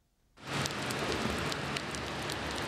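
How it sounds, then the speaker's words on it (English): Torrential rain in Sydney pours down steadily after a short silence, a dense, constant hiss of heavy rainfall with scattered louder drops and splashes. "Torrential rain in Sydney has caused chaos for commuters, disrupting trains and buses"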